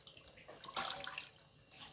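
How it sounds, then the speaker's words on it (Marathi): Quiet, brief splashing and trickling as a clean cotton cloth is dunked and worked in water, with no voices. "कॉटनचा स्वच्छ कपडा घेतलेला आहे तो आपण असं भिजवून घेऊयात"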